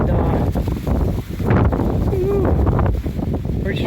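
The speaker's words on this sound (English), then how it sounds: "pretty strong gust." A strong gust of wind buffets the microphone outdoors on a homestead, a loud rumbling roar that swells and persists, with a voice talking faintly in the background.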